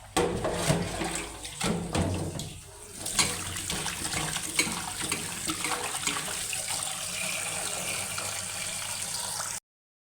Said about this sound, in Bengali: মাছটা ধুয়ে নিতেছি